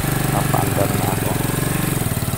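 A motorcycle engine idles close by on a rural road between Santo Domingo and Prieto Diaz in Sorsogon, with an even, rapid chugging throb that holds steady throughout while a faint voice briefly murmurs near the start.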